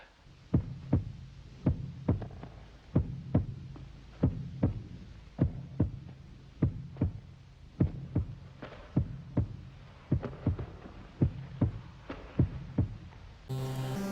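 Steady heartbeat from the video game Dementium: The Ward, about a dozen double-thump beats roughly one per second, loud and close with a low hum underneath and no talking.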